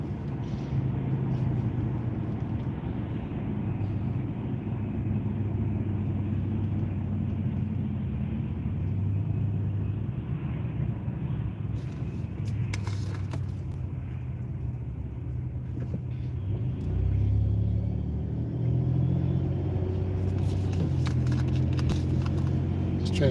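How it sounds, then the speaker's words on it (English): Heavy stop-and-go metro road traffic rumbles steadily from inside a car, with a semi truck close behind; a low engine drone persists throughout and a person talks over it. "This is your metro traffic."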